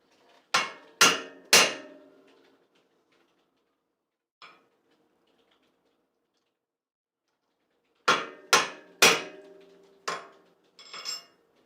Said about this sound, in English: I'm but going to set this rivet the same way I did the other one